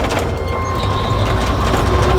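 A steerless rail cart rolls along its track in Taiwan, giving a continuous loud metallic rumble and rolling grind with a faint high squeal, steady and close.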